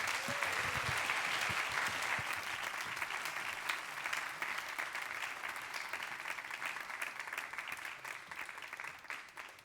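A church youth gathering gives a warm round of applause welcoming a professor to the stage, dense continuous clapping sustained for nearly ten seconds with little variation.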